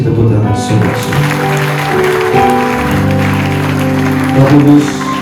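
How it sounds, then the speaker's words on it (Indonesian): At a church prayer service, a congregation claps along under loud, sustained keyboard music, the hand claps forming a busy texture beneath the steady chords. "Kasih tepuk tangan saudara-saudara."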